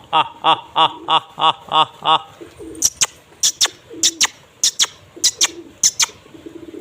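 A male pigeon coos near a female in a loft, a close run of six or seven deep rhythmic coos followed by sharper chirps and calls from other birds, with a faint voice in the background.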